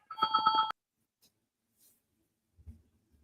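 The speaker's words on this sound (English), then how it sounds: "getting a phone call" An incoming call rings on a phone: a short, close electronic burst of four quick pulsed tones lasting under a second, then near silence with a faint low thud at the end.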